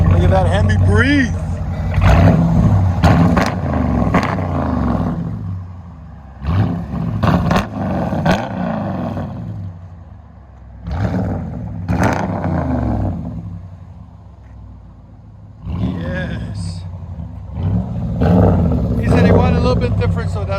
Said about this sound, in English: Look at that Hemi breathe.